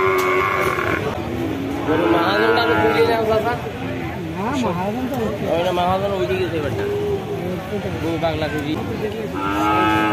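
A young Sahiwal bull calf moos repeatedly in long, wavering calls up close at a village cattle market in Jessore, Bangladesh, with people talking around it much of the time.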